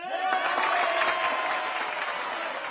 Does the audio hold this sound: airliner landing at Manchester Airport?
no